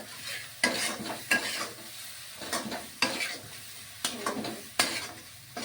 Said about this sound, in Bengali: লবণ দিয়ে এটাকে আবার একটু কষতে হবে